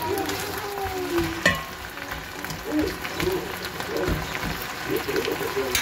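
Garlic frying in a pan for pork loin in sauce, a steady crackling sizzle with occasional stirring clatter and a sharp knock near the start, with voices faintly in the background.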